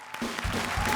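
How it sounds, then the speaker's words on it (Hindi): Studio audience applauding after a comedy act on a Hindi comedy show stage, a brief dense burst of clapping that holds steady and fairly loud for about a second with no talk. "जोरदार तालियां।"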